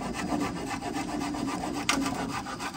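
A hand saw rasps steadily through wood in a continuous back-and-forth rhythm, close up, with a brief sharper scrape near the end.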